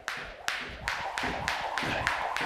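A jump rope slaps the floor during double unders at a fast, steady rhythm, about one crisp tap every third of a second over a continuous low background hum.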